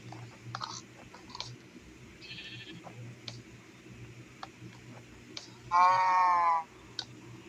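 A few short video game sheep bleats from Minecraft, the loudest near the end, over a steady low hum and scattered light clicks.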